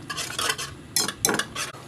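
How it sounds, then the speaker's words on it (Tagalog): Sauce for fresh lumpia is stirred as it thickens in a pan, with a quick series of close scraping, swishing strokes against the metal in uneven bursts. "Kumulo na siya at unti-unti na lumalapot yung ating sauce. Tuloy-tuloy lamang ang paghahalo."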